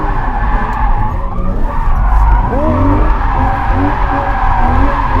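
A car drifting with the steering whipped left, tires skidding and squealing loudly and continuously over a steady engine roar, with a passing car noise throughout.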